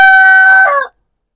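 A single loud, close rooster crow, a drawn-out tonal call lasting under a second and ending abruptly, heard alone with no talk.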